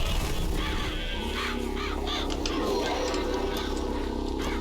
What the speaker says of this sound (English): What is with the birds?